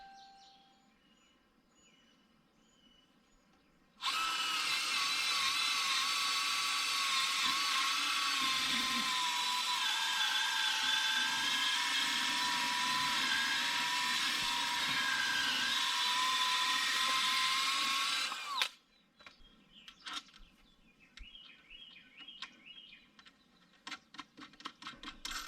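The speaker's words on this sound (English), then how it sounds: "we're going to pre-drill so we can get this slide down on the ground." A power drill pre-drills wood, whining steadily for about fifteen seconds, loud and close, starting abruptly and cutting off, with quieter shuffling before and after.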